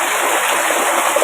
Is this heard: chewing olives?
no